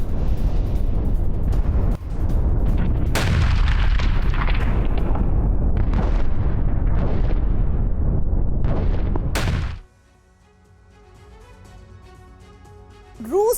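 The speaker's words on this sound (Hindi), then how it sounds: "यूक्रेन के चासिव यार में भीषण बमबारी हुई है" Heavy bombardment in the Ukrainian town of Chasiv Yar, with a dense roar of explosions and artillery blasts in rapid succession for nearly ten seconds. The barrage then drops away to a quiet lull, and a loud burst returns at the very end.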